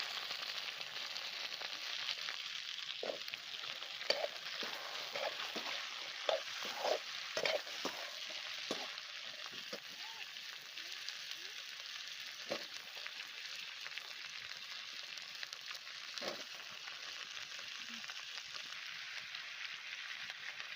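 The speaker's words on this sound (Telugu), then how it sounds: "అల్లం వెల్లుల్లి పేస్ట్ పచ్చివాసన పోయే వరకు ఆయిల్లో వేయించి ఇప్పుడు మనం క్లీన్ చేసుకున్న చెంపకాయలు వేసేద్దాం" Cleaned vegetables tossed into hot oil with ginger garlic paste, sizzling steadily with a constant hiss and scattered crackles and pops, alone and fairly close.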